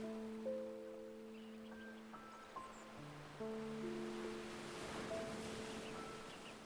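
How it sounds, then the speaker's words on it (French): Soft ocean waves wash at the seashore in a calm, steady rhythm beneath sustained gentle musical tones, the surf faint and distant throughout. "Le rythme des vagues est constant"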